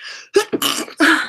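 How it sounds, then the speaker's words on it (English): A person sneezes up close, a loud, abrupt burst broken into a few short explosive bits within about a second. "I'm gonna sneeze."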